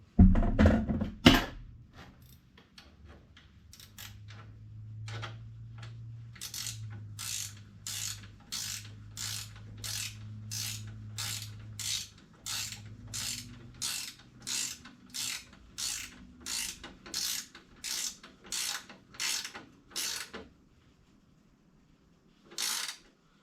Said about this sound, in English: I'm going to screw the bolt in first before I cut it, and cut it later